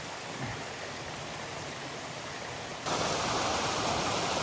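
Haggis Brook running through the wilderness on a wet day, a steady broadband rush of flowing water that jumps louder partway through as the sound comes closer.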